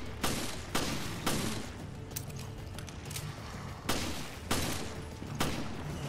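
Repeated gunshots from a firearm in the video game Resident Evil Village: about seven sharp, loud reports spaced irregularly over several seconds, with mechanical clatter and a low ambient rumble between shots.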